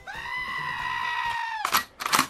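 Goat screaming: a loud, sustained nasal bleat lasting over a second, followed by harsh broadband scraping bursts, close and clear with no talking.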